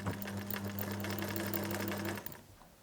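A sewing machine runs a straight seam along a knitted cardigan, a close, rapid rhythmic hum with a regular clatter that stops abruptly near the end.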